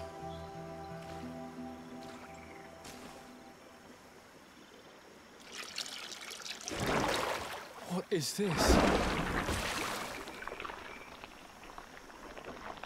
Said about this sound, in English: It's a water hydrant.